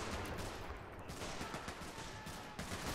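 Dense, continuous gunfire from a World War II battle in Men of War Assault Squad 2 during the D-Day assault on Pointe du Hoc, with rapid overlapping shots and bursts that stay loud and steady throughout.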